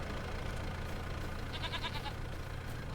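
A goat gives one short, wavering bleat midway through, at a moderate distance, over a constant low engine hum.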